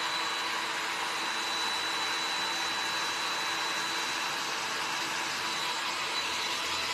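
A hair dryer runs steadily at close range, drying wet paint on a homemade spring flower centerpiece with a constant, even airy whir that does not change for the whole stretch.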